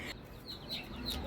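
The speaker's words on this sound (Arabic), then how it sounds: "فراخ بلدي هجين." Hybrid baladi chickens cluck softly in a short, close burst of several quick clucks over faint background noise.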